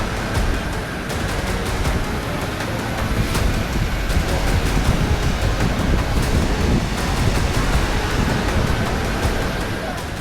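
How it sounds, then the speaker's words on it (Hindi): Fast-flowing floodwater rushing through a street in Zaragoza province, Spain, a loud, steady roar of churning water and wind noise lasting throughout, with no voices over it. "देखिए इस पानी की रफ्तार कितनी तेज है कि सड़क किनारे खड़ी कारें किसी खिलौने की तरह इसके बहाव में बहती चली जा रही हैं।"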